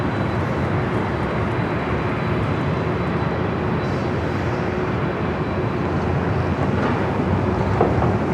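Steady, loud jet engine roar from aircraft at LAX airport in Los Angeles, a continuous broadband rumble holding level for the whole stretch with no talk.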